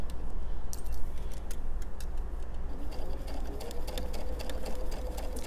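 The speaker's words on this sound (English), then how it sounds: "I'm just gonna sew all the way around here." A sewing machine stitches around the collar of a pajama top, a fast continuous mechanical whir with rapid ticking clatter, steady and close throughout with no talking.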